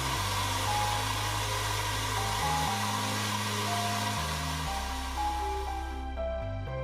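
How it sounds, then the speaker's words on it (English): A hair dryer blows with a steady, loud whoosh, drying fluid off metal model tank tracks, its motor hum shifting pitch slightly as it runs continuously. "Evaporate the fluid using a hairdryer."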